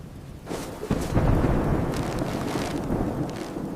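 Thunderstorm at night with a deep rolling thunder rumble swelling after a quieter start, heavy rain and wind noise washing over it, loud and close, no voices.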